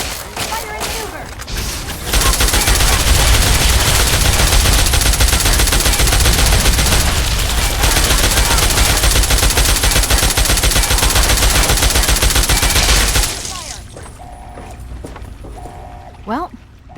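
A firefight in Fallout 3 brings dense, sustained automatic gunfire that roars loud for about ten seconds, then drops to sparse hits and quieter noise.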